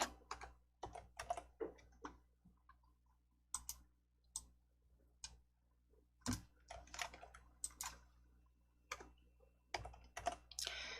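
Computer keyboard typing in irregular bursts of close, crisp key clicks with short pauses between, with a few separate presses like the Enter key, while making PowerPoint slides, no speech.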